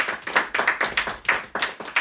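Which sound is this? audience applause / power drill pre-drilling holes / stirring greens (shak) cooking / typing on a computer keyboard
audience applause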